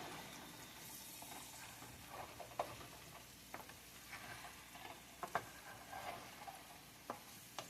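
Food fries in Crisco with butter in a home kitchen, giving a faint, continuous sizzle broken by soft scattered pops and stirring clicks.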